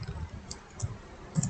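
Light clicking of computer keyboard keys as a password is typed, a few soft, irregular keystrokes, faint and close over low background noise.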